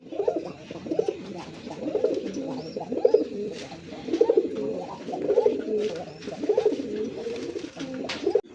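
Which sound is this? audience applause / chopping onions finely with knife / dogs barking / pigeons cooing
pigeons cooing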